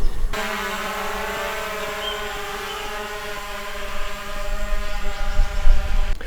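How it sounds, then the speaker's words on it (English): A DJI drone hovering and flying in tight spaces, steady high-pitched whine of propellers up close, rising slightly and turning rougher toward the end, with no talking. "Right, let's get the drone up."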